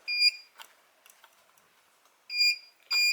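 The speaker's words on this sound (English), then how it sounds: "That red beep means it's not lined up." Short electronic beeps from a cutting machine's camera as it reads registration marks and finds them misaligned, sharp bright tones in a couple of quick bursts separated by faint handling clicks.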